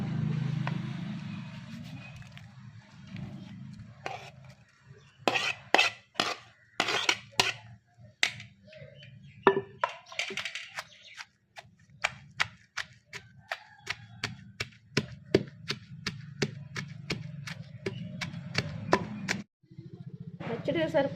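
Fried green chillies are pounded in a village-style stone mortar for a chutney: sharp, irregular knocks and crunching thuds, sometimes in quick runs, sometimes spaced apart, over a quiet low hum.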